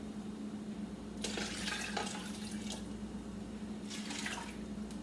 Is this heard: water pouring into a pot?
yes